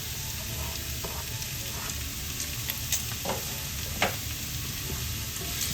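Red onions sauté in hot oil alongside golden brown garlic for a Filipino pinakbet, giving a steady close sizzle broken by a few light stirring clicks, with no talking.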